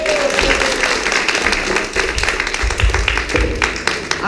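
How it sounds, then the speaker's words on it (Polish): Audience applause at a Polish folk-party concert, a dense steady clapping wash under loud stage music, with a voice briefly sounding over it. "zróbmy wielkie brawa dla dziewczyn"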